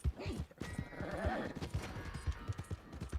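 A horse in the Red Dead Redemption 2 video game, with a steady rhythm of clip-clopping hooves and a whinny near the start, heard close alongside other game sounds.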